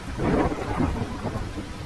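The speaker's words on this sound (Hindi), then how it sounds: "लाडो तेज बारिश में अपने बच्चों की तरफ निकल पड़ी।" Heavy rain pours down steadily with rolling, rumbling thunder, loud and close, with no voices.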